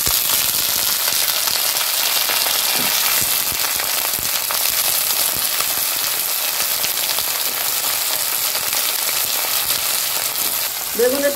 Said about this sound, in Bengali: এখন দিয়ে দিব বেগুন